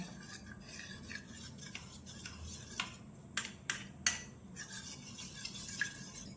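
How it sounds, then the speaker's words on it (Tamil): Cornflour batter mixed with water in a bowl for potato stuffed bread cutlets, a quiet scraping stir of a spoon against the bowl with a few sharper clinks, faint and close, without talk. "இப்போது கட்டிகள் இல்லாமல் இந்த மாதிரி மிக்ஸ் பண்ணி எடுத்துக்கலாம்."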